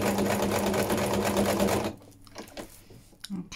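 A sewing machine stitches fabric and tissue in a steady, close mechanical whir for about two seconds, then stops, leaving quieter handling noises.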